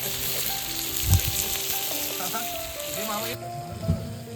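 Paneer sizzles steadily on a hot griddle, a continuous crackling hiss with a couple of soft knocks as it is stirred.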